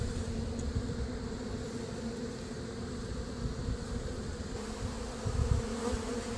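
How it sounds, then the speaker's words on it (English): Honeybees fly around during a hive removal, a steady close buzzing drone that hums continuously with slight swells, no voices. "there are no bees in here anymore except for, you know, curious ones just flying around here and there"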